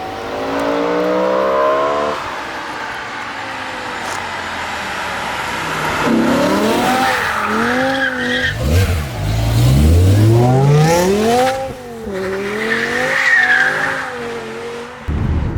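A powerful BMW M5 engine revs and climbs through rising tones, shifting gears repeatedly as it accelerates hard, loud and close with a deep roar.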